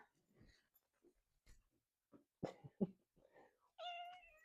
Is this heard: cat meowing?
yes